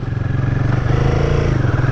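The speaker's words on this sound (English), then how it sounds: "let's go and see what this bike's like to ride" A Royal Enfield 450 Guerrilla motorcycle being ridden, its single engine thumping in a fast, steady pulse close up and loud, with a faint rising pitch as it pulls away and no speech.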